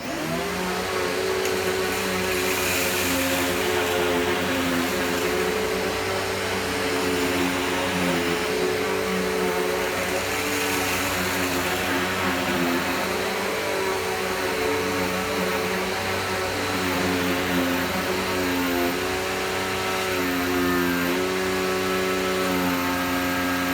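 A Riccar R600 Vibrance single-motor upright vacuum cleaner runs steadily and loudly throughout, a continuous whirring drone with strong harmonic tones and slight shifts in pitch.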